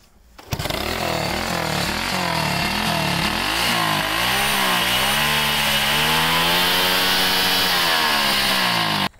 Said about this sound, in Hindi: मैं आपको ज़रा स्टार्ट करके दिखाता हूँ बाइक